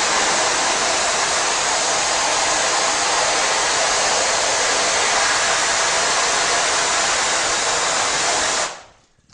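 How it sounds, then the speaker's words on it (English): A hose sprays water in a loud, steady hiss onto a screen-printing mesh to wash out emulsion, continuing evenly for about eight seconds before the flow shuts off and fades. "let's switch to a more softer hose"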